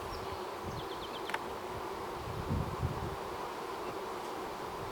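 A steady hum of many honeybees buzzing close by at an open hive during a mite check, continuous and even, with faint rustling and a few light knocks.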